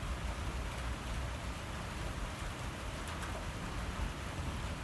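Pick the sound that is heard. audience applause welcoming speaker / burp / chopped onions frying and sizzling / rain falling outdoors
rain falling outdoors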